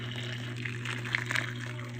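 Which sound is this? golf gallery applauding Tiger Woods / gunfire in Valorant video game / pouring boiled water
pouring boiled water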